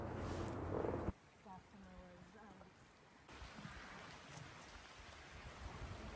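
A flowing creek on a nature hike near San Francisco gives a steady broadband rush, loud and close for the first second, then softer and continuous while people talk over it.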